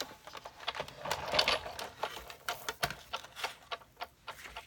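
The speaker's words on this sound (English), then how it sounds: "Bring up my die cut machine, the Big Shot." Big Shot die cut machine being cranked, giving a run of quick ticking and clicking mechanical sounds in an irregular rhythm, close and fairly faint, with no voices.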